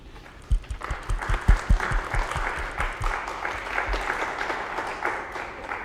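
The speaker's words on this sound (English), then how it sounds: "please join me in a round of applause for Anne-Marie Gloannec." Audience applause for a speaker at an academic lecture, starting with a few distinct claps that swell into a sustained, fairly soft wash of clapping from a seated crowd.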